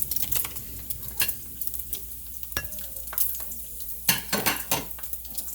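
Turkey bacon fries in a pan with a steady close sizzle, broken by several sharp clatters and scrapes of a utensil stirring and knocking against the cookware.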